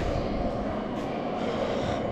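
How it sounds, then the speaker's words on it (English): A London Underground tube train in a station gives off a loud, steady rumbling roar that holds evenly throughout, with no voices. "I've probably just missed the train, haven't I?"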